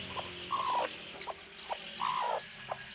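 A hen on a small backyard poultry setup, left without chicks, gives short rhythmic clucks with two longer drawn-out calls, close and clear, with no talking.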